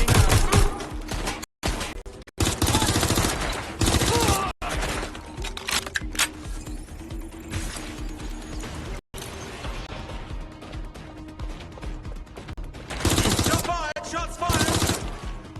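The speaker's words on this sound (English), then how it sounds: "Shots fired!" Rapid automatic gunfire rattles in loud repeated bursts during a shootout in the video game Watch Dogs: Legion, set in London, with brief pauses between volleys.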